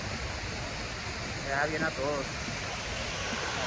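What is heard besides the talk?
waterfall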